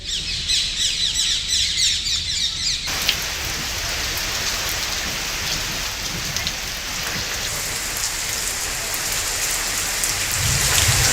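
Heavy monsoon rain pours down steadily across rural Kondagaon, India, a loud, dense, continuous hiss close by with no pause. Sharp squawking calls stand out over the downpour for the first few seconds, and no one speaks.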